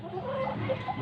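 Soft, brief clucking from a chicken close by, over a low steady background hum.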